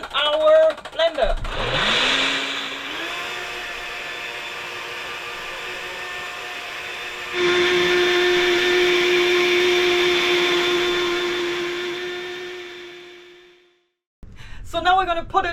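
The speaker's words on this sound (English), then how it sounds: "Now our paddleboard pump will get a little bit loud, and our blender." An inflatable paddleboard pump and a blender run off a portable solar generator. A steady, loud electric motor whir drones for about twelve seconds, steps louder partway through, then cuts out, with brief talk at the start and end.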